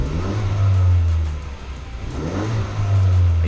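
A 2019-2022 Ford Ranger engine fitted with an Axial SpeedForm throttle controller revs up twice in comfort mode, rising then easing off, loud and close with no talk.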